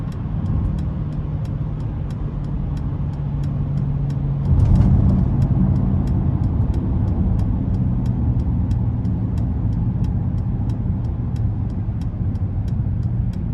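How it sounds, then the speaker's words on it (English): A 2021 Mercedes-AMG GLS 63 with a 4.0-litre twin-turbo V8 of 603 hp drones steadily from inside the cabin on a test drive. A deep, continuous engine and exhaust roar swells slightly partway through and carries on without talk. "the menacing scream you get from the exhaust is just"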